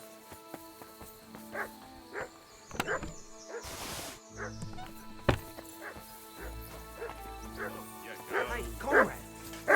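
A dog in the video game Kingdom Come Deliverance 2 barks in scattered sharp bursts at moderate distance, mixed with thuds and clatter, while people talk over it throughout.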